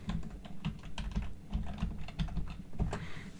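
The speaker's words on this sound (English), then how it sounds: "I'm just going to move my mouse there and just type happy." Rapid, uneven clatter of keys on a computer keyboard, typed close by in steady bursts with no speech over it.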